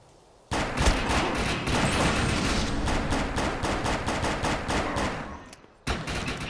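Rapid, loud bursts of gunfire from a powerful gun in a video game, a dense fusillade of close shots running almost continuously, briefly pausing near the end before firing resumes.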